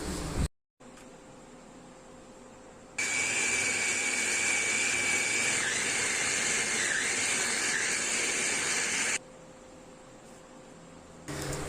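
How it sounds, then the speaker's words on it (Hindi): An electric chopper runs on boiled chicken pieces, giving a loud, steady whirring roar that lasts about six seconds and stops, with quieter handling sounds before and after. "अब इस उबले हुए चिकन को हम चॉप कर लेते हैं।"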